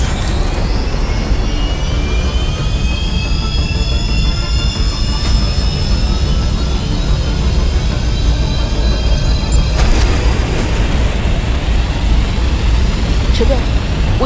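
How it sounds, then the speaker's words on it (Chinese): An aircraft engine spins up in the video game Bright Memory Infinite. A loud, continuous roar and rumble runs throughout, with rising whine tones, and a voice speaks over it. "听我指令，当我倒数到一时，请启动引擎。"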